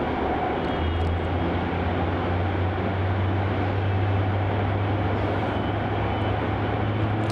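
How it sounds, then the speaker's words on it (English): Jetstar Airbus A321 from Sydney arrives at Melbourne Airport with a loud, steady broadband jet roar and a low droning hum holding throughout, close and continuous. "Coming in now, we have Jetstar flight JQ507 from Sydney."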